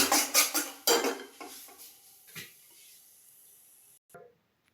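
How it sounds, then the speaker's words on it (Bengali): A metal spoon scrapes and clanks in a wok while scooping out fried green banana peel paste, with several quick close clatters at first, then sparse scrapes that fade into near silence. "এবার কড়াই থেকে তুলে নেব।"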